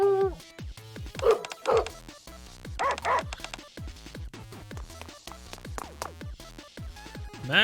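Dogs in Goddess of Victory Nikke bark, yip and whimper in repeated excited bursts over game music and sound effects, with a voice speaking at times.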